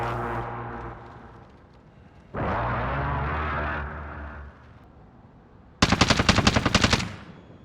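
Gunfire in the video game Call of Duty: Warzone, with a sniper-scoped SA87 loadout: loud bursts of rapid automatic shots in separate volleys, with a sharp, crackling final burst near the end, and no talk.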